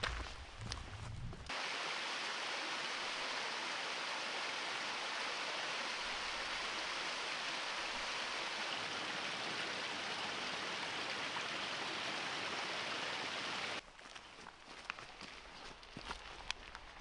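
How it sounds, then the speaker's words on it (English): Rushing waterfalls in Snowdonia pour as a loud, steady roar of water that holds without a break for most of the stretch, with brief sounds of moving about at the start and end. "Come with me to the waterfalls."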